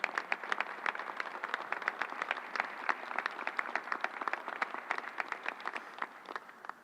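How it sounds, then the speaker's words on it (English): Applause for nurses, doctors, technicians and National Guard members at a New York press briefing at the Javits Center: a steady, moderately sized round of clapping, with individual claps audible, continuing evenly throughout. "Let's give them a big round of applause."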